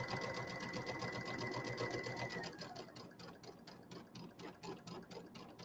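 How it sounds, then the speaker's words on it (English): A sewing machine runs in a steady, rapid stitching rhythm up close while sewing a settee pillow, first loud and continuous and then slightly softer with distinct pulsing stitches. "These machines sew very, very straight."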